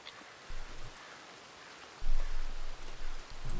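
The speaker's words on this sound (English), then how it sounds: "it's kind of a rainy day today" Rain falling in a Wild West roleplay video game, a soft steady hiss with low rumbling bursts swelling in and out, fairly quiet.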